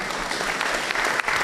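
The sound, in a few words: audience applause for the panelists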